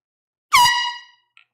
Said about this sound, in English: You sell an entire bin of vintage pre-owned, you get the air horn